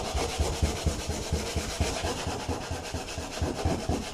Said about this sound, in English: just use some more 80 grit sandpaper